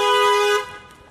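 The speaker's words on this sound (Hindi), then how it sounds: "अरे हॉर्न मारतो यार" A single sustained car horn blast, loud and close, cuts off abruptly after about half a second, leaving a quiet background.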